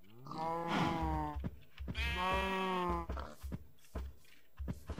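A cow mooing in the Minecraft video game, two long drawn-out moos close and loud, with light thumping footsteps between and after them.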